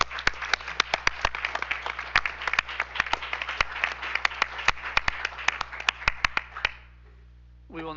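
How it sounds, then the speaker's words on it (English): Applause at a school district board meeting honoring an award recipient: a small group clapping with distinct sharp claps, steady for about six seconds, then stopping into near silence as a voice begins. "Let's give one more round of applause for our award."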